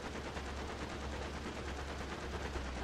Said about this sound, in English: Gunners are going